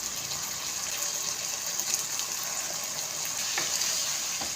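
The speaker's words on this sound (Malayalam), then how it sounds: "ഇനി ഇതിലേക്ക് ഒരു ചെറിയ കഷ്ണം പുളി എടുത്തിട്ട് ഇതൊന്ന് പിഴിഞ്ഞ് ഇതിലേക്ക് ഒഴിച്ചു കൊടുക്കാം" Squeezed tamarind water trickles and splashes into a pot of Kerala avial, a soft, faint liquid pour over gentle bubbling with no voices.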